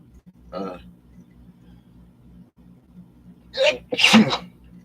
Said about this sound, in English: I felt the sneeze coming on